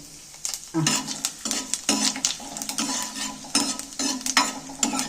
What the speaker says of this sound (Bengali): এইবার মশলাগুলো আমি সব মশলাগুলো একবারেই দিয়ে দিচ্ছি